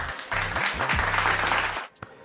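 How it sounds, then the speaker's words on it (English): Dense applause with a broad crowd-like wash, mixed with a low tonal musical bed, ending abruptly. "Round of applause right there."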